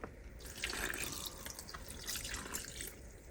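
Water poured into a bowl of potato starch to make batter, a faint, brief trickling and splashing close by.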